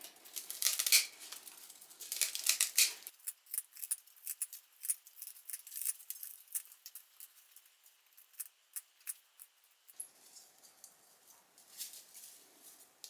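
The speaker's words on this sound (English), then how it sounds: "use scissors and cut away all of this broomcorn at the top of the broom" Repeated snipping of scissors cutting through dry stiff broomcorn at the top of a whisk broom, close and crisp, in quick irregular bursts with brief pauses, no voices.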